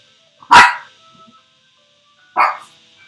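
A dog barks twice, loud and close, with a second-long gap between the sharp barks and a faint electronic tone humming beneath them.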